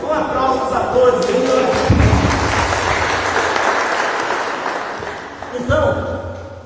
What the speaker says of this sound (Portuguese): Um aplauso a todos.